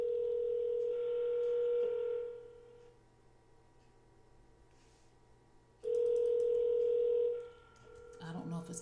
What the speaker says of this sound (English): It's calling her phone.